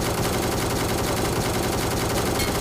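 Gunfire rattles in the mobile battle royale game PUBG Mobile, with dense, loud overlapping bursts of shots packed tightly together throughout.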